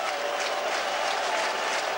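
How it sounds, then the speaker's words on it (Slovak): A roaring stadium ovation from 18,000 fans in Trnava after a goal by Matador Púchov against FC Barcelona in 2003, a dense and continuous wall of applause and crowd noise without pause. "Obrovské ovácie v Trnave."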